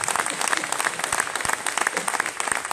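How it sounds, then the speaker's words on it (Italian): A seated audience at a community festival talk on citizenship and welcome claps in a moderate, continuous round of applause, individual hand claps audible within the steady patter, at a somewhat distant, modest level. "Un altro applauso, dai."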